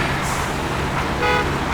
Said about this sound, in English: Oops, honking the horn.